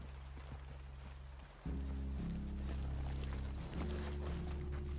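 Horses walk with hooves clip-clopping in Red Dead Redemption 2, steady near footfalls over a low hum, with the sound swelling as more horses come in partway through.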